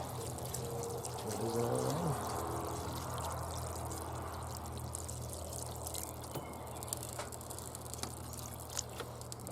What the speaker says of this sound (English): So we're gonna add water, just enough to cover all the.